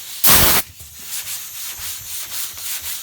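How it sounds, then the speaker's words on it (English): Block sanding of Bondo body filler on the roof of a 1975 Ford LTD: one loud, close abrasive stroke, then a quieter sequence of light scraping strokes, with no talking. "you don't want to go in there and sand the little thing because you're making a hole"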